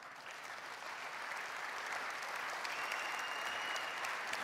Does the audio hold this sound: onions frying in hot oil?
no